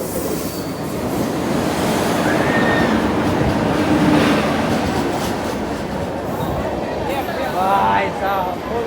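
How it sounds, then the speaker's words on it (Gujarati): The Saurashtra Express pulls into a station between Surat and Junagadh, a close, loud rolling rumble that stays steady throughout, with brief high wheel squeals and people talking on the platform. "ટ્રેન આવી ગઈ સૌરાષ્ટ્ર એક્સપ્રેસ."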